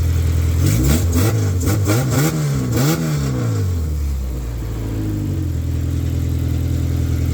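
A warmed-up K-swapped hatchback engine, running with no thermostat, is revved in several quick rising and falling blips, then settles into a steady idle. It sounds loud and close, with no talking.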